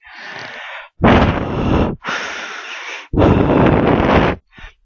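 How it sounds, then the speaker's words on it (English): Heavy, loud breaths blown straight into a microphone, four long gusty inhales and exhales in slow succession with short silent gaps, harsh and wind-like, followed by a short final puff. "breathing into the mic, that's probably my number 5 thing"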